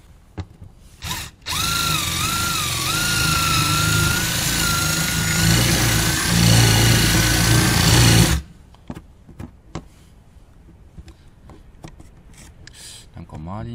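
Power drill enlarging a drilled bolt hole while fitting canards on a Subaru WRX STI, a loud steady whine lasting about seven seconds that cuts off abruptly, followed by faint clatter and handling noises.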